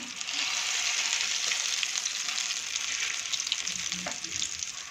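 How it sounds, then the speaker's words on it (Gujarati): Dabla bhajiya fritters frying in hot oil: a steady, dense sizzle and crackle, close and continuous throughout with no talking. "આ રીતે આપણે બધા જ ભજીયાને ફ્રાય કરી લઈશું."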